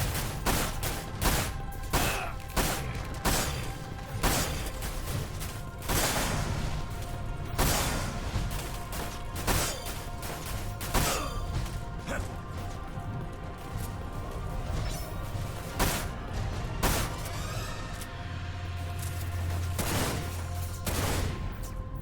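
Sniper gunfire in the video game Dirge of Cerberus: Final Fantasy VII, with repeated loud shots and impacts at irregular intervals. Crashes and mechanical clatter sound between shots throughout.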